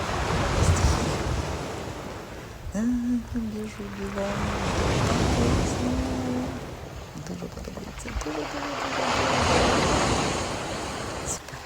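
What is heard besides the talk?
sea waves on rocky Albanian coast with wind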